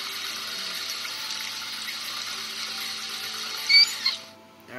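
In the video game The Wolf Among Us, steady running water pours continuously at moderate volume, with a couple of brief louder splashes near the end before it cuts off.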